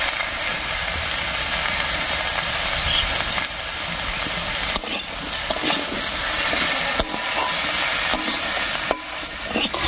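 Mixed vegetables frying in oil with salt and turmeric give a loud, continuous close sizzle and steamy hiss, with occasional stirring knocks and no talk.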